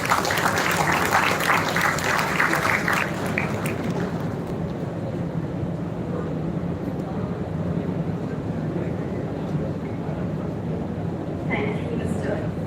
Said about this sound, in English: Kindly welcome her with a round of applause.